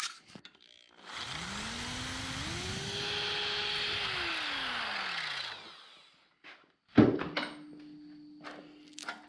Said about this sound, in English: run your new drill bit through the other holes so that you get the other bolts in